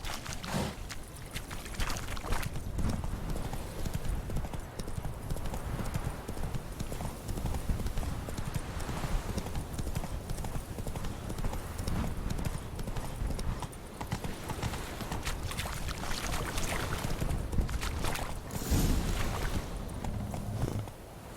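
Horse hooves clip-clop continuously at a steady trotting pace in the video game Witcher 3, heard close with a faint ambient wash and occasional snorts, with no talking.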